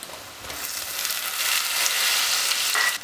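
Chopped tomatoes and spice powders hit sautéed onions in a pan for a Kuttanad-style mullet fish curry; a close, steady sizzle swells and grows louder, with faint stirring.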